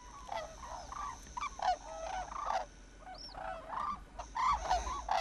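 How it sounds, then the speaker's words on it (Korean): Cranes calling near a feeding ground by the North Korean border, a flock giving repeated honking, trumpeting cries in overlapping bursts throughout, moderately distant over a low background rumble. "두루미의 울음소리는 주변의 위험을 알리는 일종의 신호다."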